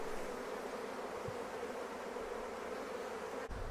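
Honeybees back from almond pollination in California buzz around their hives in a dense, steady drone that holds close and constant, with a brief knock near the end.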